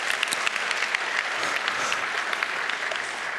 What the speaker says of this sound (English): you can applaud that if you wish